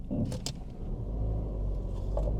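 A manual-transmission car pulls away on an uphill slope, its engine holding a steady low rumble that builds slightly as the clutch engages, with a couple of brief clicks or rattles early on and no talk.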